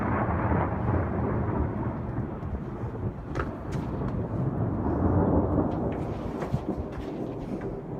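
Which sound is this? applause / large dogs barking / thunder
thunder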